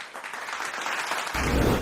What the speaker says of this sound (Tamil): ஒரு அற்புதமான உரையை வழங்கிய பரந்தாமனுக்கு ஒரு அற்புதமான கைத்தட்டல்கள்.